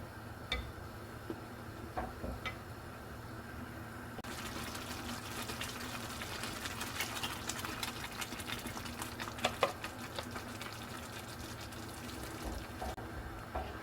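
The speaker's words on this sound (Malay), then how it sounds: "Kita boleh tambah dengan sedikit air daripada rebusan ikan" Broth from boiled fish is poured into a cooking pot for nasi dagang, a soft steady trickle and splash heard faintly and close, with no talking.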